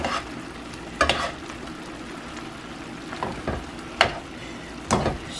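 Fajita mixture stirred in a hot pan, a steady low sizzle broken by a few sharp scraping clatters of the spoon, about four distinct strokes spread across the span, no voices.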